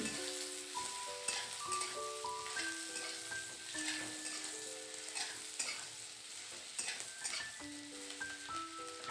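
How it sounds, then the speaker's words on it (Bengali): Chopped onions fry in a pan for a pasta dish, a soft steady sizzle with repeated scraping of a spatula as they are stirred, while background music plays over the quiet cooking. "পেঁয়াজটাকে ভালো করে নাড়ি চাড়িয়ে একটু ভেজে নিচ্ছি"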